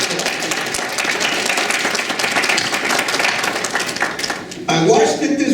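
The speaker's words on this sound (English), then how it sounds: "Can we give them a little applause?" A congregation at a worship service breaks into sustained, dense applause that fills the room, and a voice comes in near the end.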